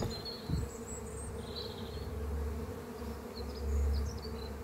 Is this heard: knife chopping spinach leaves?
no